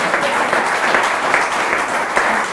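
A studio talk-show audience applauds, a loud, dense wash of many hands clapping that runs on steadily without speech.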